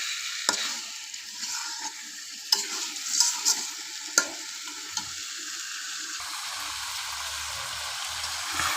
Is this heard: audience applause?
no